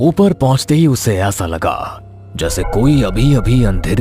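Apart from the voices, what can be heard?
No everyday noise stands out behind the speech.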